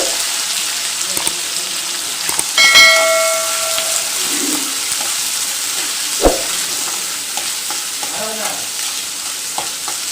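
Onions frying in oil with mustard seeds and chana dal for a Tamil ivy gourd (kovakkai) poriyal, a steady close sizzle with a few stirring clatters and a short sharp knock midway.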